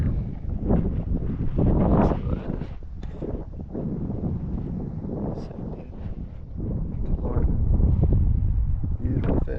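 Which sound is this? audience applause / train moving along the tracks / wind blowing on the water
wind blowing on the water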